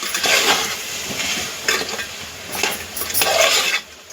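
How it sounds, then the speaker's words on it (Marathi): Vegetables for veg pulao stirred in a pan after a squeeze of lemon juice, a spoon scraping in a few uneven bursts of clatter and soft sizzle, close and moderately loud with no talking. "लिंबू पिळल्यानंतर आपण ते परत एकदा परतून घ्यायचं व्यवस्थित"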